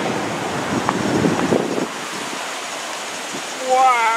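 Swollen river near an old mill in the Ozarks, a broad roaring rush of rolling water mixed with wind buffeting the microphone, steady and close.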